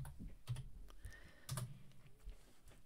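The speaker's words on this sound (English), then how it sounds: "I'm just going to type in reading, see what pops up." Typing on a computer keyboard, heard as a few short, soft clusters of key taps at close range in a quiet room, with no voice.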